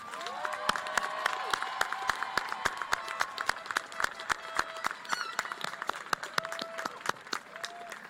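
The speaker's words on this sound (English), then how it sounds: "please join me in giving them one more round of applause of good luck" Graduation-ceremony audience applauding in a large high school hall, dense sustained clapping with sharp individual claps standing out and faint cheers, steady throughout.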